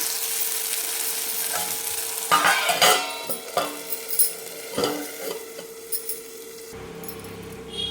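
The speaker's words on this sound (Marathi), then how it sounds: "मीठ पण टाकून चांगलं परतून घ्यायचं" Tomatoes with salt sauté in a pan for village-style tomato chutney, a steady sizzle broken by repeated scraping and clattering stirs of a utensil against the pan, fading quieter at the end.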